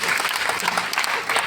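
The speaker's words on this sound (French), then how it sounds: "La jeunesse, on applaudit pour le Didier." A crowd applauds steadily throughout at an evening festival show, dense clapping close by and loud, filling the whole moment without pause.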